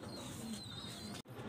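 A white pigeon of the madrasi breed, kept for sale in Delhi, coos softly and close by against a quiet background, with one brief sharp click near the end.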